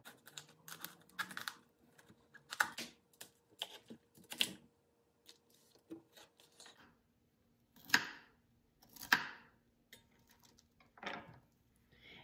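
Cauliflower being cut into small pieces with a knife on a board: a series of faint, sharp taps and clicks at an irregular pace, some closer together, in a quiet kitchen with no talking.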